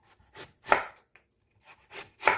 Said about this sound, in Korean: 무는 채를 치면 돼요